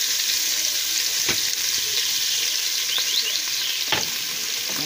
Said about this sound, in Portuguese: Pôr o bacon para fritar.